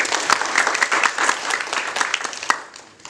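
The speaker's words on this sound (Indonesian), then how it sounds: "Tepuk tangan dulu." Participants at the end of a two-day training session in a hotel meeting room in Manokwari applaud, a fairly loud burst of dense clapping that tapers off after about three seconds.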